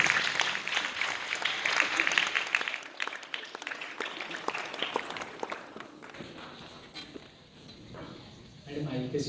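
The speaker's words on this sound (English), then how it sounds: "please give a round of applause" Audience applauding a judge at a school inter-house English drama competition, a scattered, moderate clapping that fades midway, with talk and movement in the hall.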